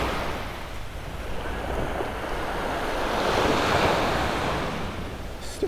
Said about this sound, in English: Still a little bit of surf action here